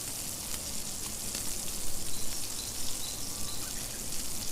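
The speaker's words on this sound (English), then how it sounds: "You fry some more until the other side is also golden brown in color" Vegetable patties sizzle and spit in a frying pan, a steady crackling hiss of oil with small pops, moderately close and fairly quiet, unbroken for several seconds.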